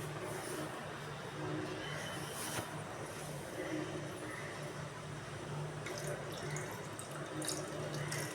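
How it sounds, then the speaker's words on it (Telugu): Water poured into a cooking pot while preparing Andhra-style mutton and drumstick curry, a steady splashing, running flow lasting throughout at moderate loudness, with faint background noise and no talk. "తగినన్ని ఉడకడానికి సరిపడా వాటర్ వేసి"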